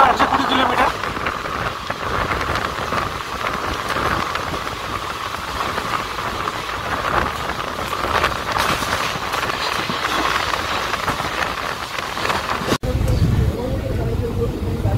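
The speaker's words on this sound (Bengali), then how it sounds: "এই মুহূর্তে ট্রেনটির গতি হলো 120 কিলোমিটার" Long-distance express train running at about 120 km/h, a steady rumbling roar of wheels and carriage noise heard from inside, with a sudden sharp shift in the sound near the end.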